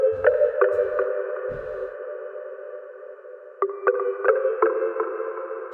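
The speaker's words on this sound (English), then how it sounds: "It's more percussive. It's a Pigments preset" A percussive synth keys patch, the Pigments preset Really Long Keys with effects off, plays a repeated rhythmic chord pattern with sharp plucky attacks and long sustained tails, a brief pause, then the pattern returns.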